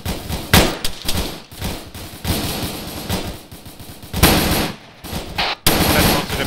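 ARMA 3 combat gunfire: repeated close, loud rifle and machine-gun bursts in uneven clusters, with short gaps between volleys.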